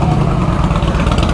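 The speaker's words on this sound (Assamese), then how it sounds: "বাইকখন ষ্টাৰ্ট কৰিছে আৰু চাউণ্ড" A Harley-Davidson motorcycle engine idles after starting, a steady, loud, low rumbling throb that holds close and continuous throughout with no talk over it.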